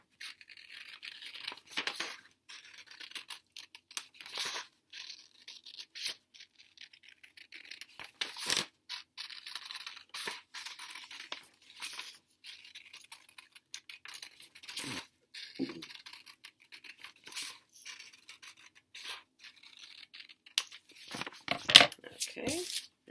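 Scissors cutting a large circle from paper, with intermittent soft snips and rustling scrapes throughout, fairly close and quiet, with occasional light handling bumps.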